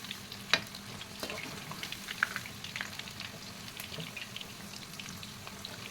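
Cabbage pakoda deep-frying in hot oil, giving a steady close crackle with scattered sharp pops and no talking.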